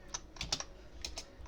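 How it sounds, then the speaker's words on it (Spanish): Keys clatter on a computer keyboard during Free Pascal Lazarus programming, a short burst of quick, crisp clicks in uneven rhythm, close and fairly quiet, with no voice. "yo quiero saber cuál es la tecla que yo estoy hundiendo"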